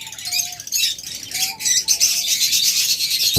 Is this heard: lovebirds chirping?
yes